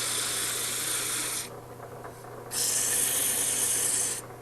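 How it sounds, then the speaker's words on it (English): Steady rasping hiss of sandpaper against a spinning wood-turned ring on a lathe, two long sanding passes separated by a quieter pause, over a constant low motor hum. "But for now, I'm just trying to get them sanded."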